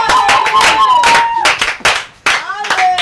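A church congregation at a Sunday service claps in praise of Jesus, giving loud rhythmic hand claps mixed with singing or voices. The sound is close and dense, with a short dip in the middle.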